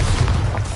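The Bombarda spell in Hogwarts Legacy bursts as a short, loud, booming explosion, a heavy low blast that fills the whole brief moment.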